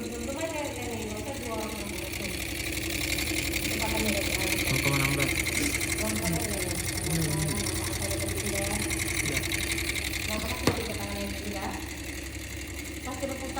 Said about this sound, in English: Drive the engine's movement by rotating the turbine. Engine should rotate as expected.